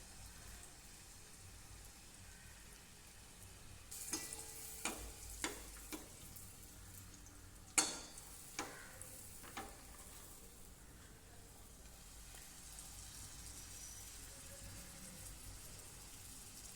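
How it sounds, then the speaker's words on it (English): Puri bubble and crackle softly in hot oil, a faint steady sizzle broken by a string of sharp pops and spatters midway, with no voices. "Fry until crispy and golden."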